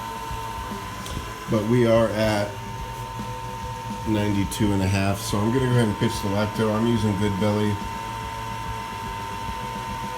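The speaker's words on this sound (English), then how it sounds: "My pump is running to keep the temperature up here." A homebrewing pump running to hold kettle temperature drones with a steady mechanical hum throughout at moderate level, with someone talking over it for much of the time.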